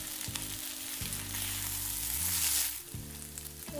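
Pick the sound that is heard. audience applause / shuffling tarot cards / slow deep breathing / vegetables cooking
vegetables cooking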